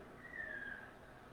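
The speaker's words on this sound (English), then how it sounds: "Sounds like a rugby whistle." A single sharp whistle blast, brief and rising slightly, cuts through a steady background roar of crowd noise.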